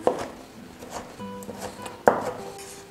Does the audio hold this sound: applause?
no